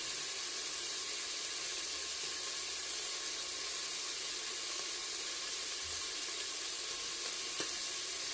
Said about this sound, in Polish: Więc trochę to podsmażymy.